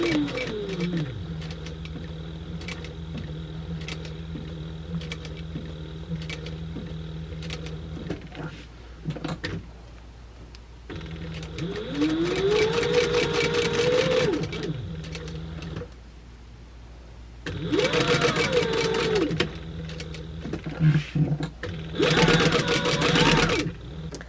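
A sewing machine runs in several bursts of rapid mechanical stitching, pausing briefly between runs, loud and close.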